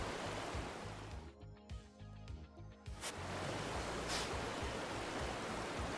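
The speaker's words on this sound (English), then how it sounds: "The water's too loud." Flowing water in the video game Paradise Killer, a loud, steady broadband rush that dips briefly in the middle and then surges back, filling the scene with no speech.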